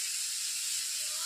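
Potatoes fry in oil with mustard paste for a rui fish jhal. A close, steady, hissing sizzle holds evenly for the whole short moment.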